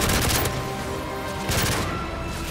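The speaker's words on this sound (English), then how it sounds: "What the hell is shooting at me?" Gunfire in the video game Modern Warfare 3 during a survival mission, loud continuous automatic bursts with dense rattling shots, two heavier volleys standing out, no talk.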